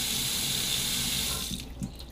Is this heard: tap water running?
yes